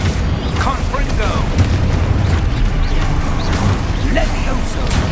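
Blasting-spell explosions from the Hogwarts Legacy video game during a wizard duel, a rapid series of booming crackling blasts and impacts over dense battle noise, with shouted spell incantations mixed in.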